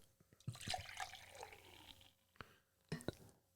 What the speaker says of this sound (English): I do need to pour myself a beer